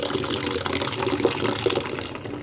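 Water runs steadily from a tap into a container where items are soaking before washing, a close, continuous splashing gush over a couple of seconds.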